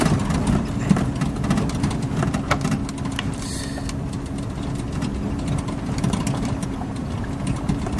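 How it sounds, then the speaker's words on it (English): Airship engines in Microsoft Flight Simulator 2020 run with a steady, dense mechanical drone, a constant rumbling hum at even loudness with no speech over it. "Let's go on all engines."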